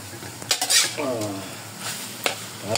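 Food sizzles in a hot pan while a utensil scrapes and stirs, with a few clinks of metal against the pan.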